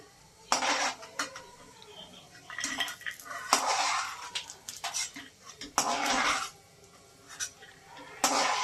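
Fried food being transferred into a steel bowl while cooking, with several sharp metallic clinks and scrapes of a spoon against steel in separate bursts, close and clear over a quiet kitchen background.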